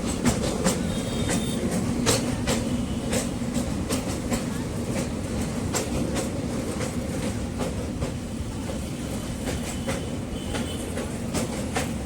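A train rumbles steadily along the tracks, with rhythmic clicking from the wheels over rail joints and a constant loud roar close by.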